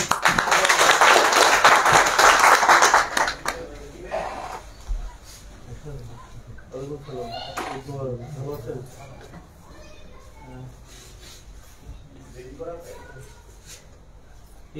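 An audience claps to welcome a guest at a local community gathering, a dense burst of applause for about three seconds that fades into scattered claps, shuffling and murmured talk.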